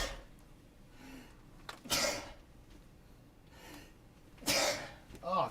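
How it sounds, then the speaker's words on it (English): A person has a sneeze attack: two loud, sharp sneezes a few seconds apart, each preceded by gasping inhales, with breathy sounds between them. "you gotta love when you get the fucking window open in time for a sneeze attack"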